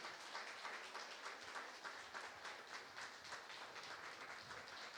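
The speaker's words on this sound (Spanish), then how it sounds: "le demos un aplauso de bienvenida" A church congregation gives welcoming applause: steady, dense clapping with a slightly rhythmic pulse, fairly faint and continuing without a break.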